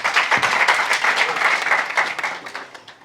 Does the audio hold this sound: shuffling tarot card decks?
no